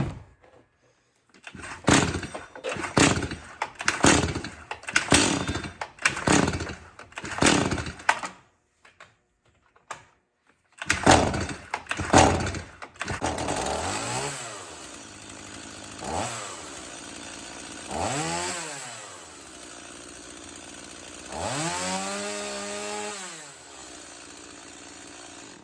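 A small engine comes to life: a series of rhythmic pulling or cranking bursts with short pauses, then it catches. It runs loud and close, rising and falling through several revs.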